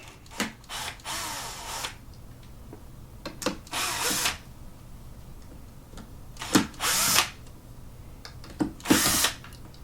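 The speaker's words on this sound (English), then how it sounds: "So when you put the screws back in, they'll go in there nicely." A power drill drives screws into a plastic speaker mount in a Positive Grid Spark Mini amp, several short whirring bursts separated by brief pauses, close and loud with no talking.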